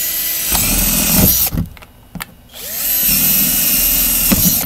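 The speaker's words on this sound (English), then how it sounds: "you can get you a little drill" A power drill whirs loudly and steadily while making holes in the bottom of a plant container, stops for about a second, then starts up again and runs on.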